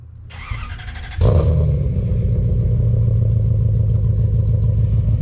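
A car engine cranks and catches at a car show event, then settles into a loud, steady idle with a slight rev, close by with no talk.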